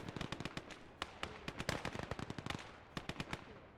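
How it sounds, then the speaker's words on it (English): A rapid cluster of sharp blasts and cracks from an artillery strike in the Gates of Hell war game, loud and closely spaced bangs rolling on without pause. "I think you get like an artillery signaler shot right into the mass of my man."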